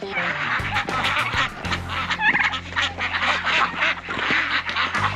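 Several ducks quack and honk close by in a noisy, overlapping chorus, with a few sharper calls standing out.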